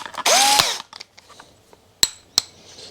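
A power drill fitted with a 12 mm bit whirs up in one loud, steady burst lasting about half a second, then winds down, followed by a few sharp clicks and knocks from the chuck and tool.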